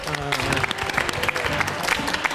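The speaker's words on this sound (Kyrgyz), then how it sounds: "Албетте ушундай дагы жагымдуу кол чабуулар менен" Studio audience at a Kyrgyz dating show clapping steadily, a dense continuous patter of many hands with a host's voice speaking over it.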